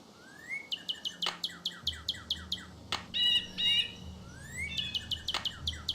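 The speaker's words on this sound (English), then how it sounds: "these birds are frightening to hear" Birds calling in the Nancy Drew game Ghost Dogs of Moon Lake, repeated sharp chirps and rising whistled calls in quick rhythmic runs, fairly close and clear over a low ambient hum.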